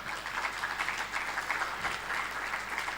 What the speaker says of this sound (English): He's leading the hand clapping session.